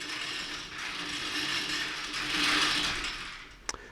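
A roller shutter rolls down with a steady mechanical whirring and rattle that swells slightly before a sharp click as it stops, heard alone without talk.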